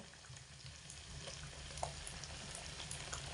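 Balls of milk, semolina and flour dough frying in hot oil, making a faint, steady bubbling sizzle with occasional small pops; no talking.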